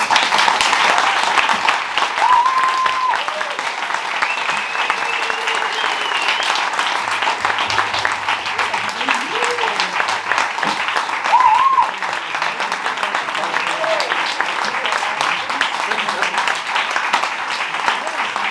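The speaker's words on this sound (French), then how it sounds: "Je pense qu'on peut applaudir nos 3 invités" An audience applauds three guests after a round-table discussion: long, sustained clapping at a steady loud level, with occasional faint voices and whoops mixed into the crowd noise.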